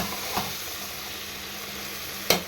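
Food sautés quietly in a frying pan while being stirred, a soft steady sizzle with two sharper scraping clinks of the spoon, one early and one near the end.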